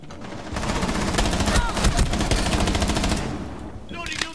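Dense, continuous automatic gunfire in Rainbow Six Siege, loud and close, rattling for several seconds with a voice speaking over it near the end.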